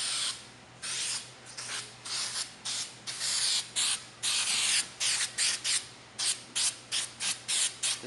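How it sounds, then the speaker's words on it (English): Adhesive glue sprayed onto a car interior panel and carpet comes as a long run of short, sharp hissing bursts in quick, fairly regular rhythm, close up with nothing else behind it. "You also want to spray a little bit around the edge of the back."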